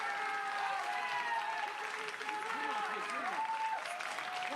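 Audience applause at a South Korean 2022 presidential election event, clapping steady and moderately distant while a voice talks over it throughout.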